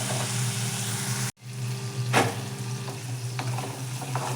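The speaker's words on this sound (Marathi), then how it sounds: "आता आपण तिखट मीठ डाळ व्यवस्थित असे परतून घ्यायची आहे" Dal with chilli powder and salt being sautéed in a pan, a dense close sizzle broken by a brief gap, then one clear spoon scrape and a few lighter stirs, no talking.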